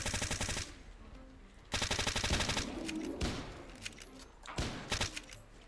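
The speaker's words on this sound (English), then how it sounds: ".44 Magnum, putting in some work." A .44 Magnum revolver fires repeatedly in Fallout: New Vegas, several loud bursts of gunshots in clusters, separated by short gaps with quieter rumbling and a fading tail.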